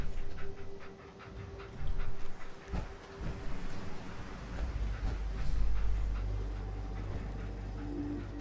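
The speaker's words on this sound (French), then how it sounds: "Je ne sais pas qui ce chien." A dog pants and whimpers softly in the Fallout 4 video game, a steady breathy rhythm that stays fairly faint against a busy game soundscape of low rumbles and background effects.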